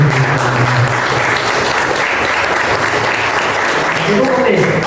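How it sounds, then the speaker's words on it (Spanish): A church congregation applauds steadily throughout, dense sustained clapping filling the hall with a few voices mixed in beneath. "Den un aplauso al Señor."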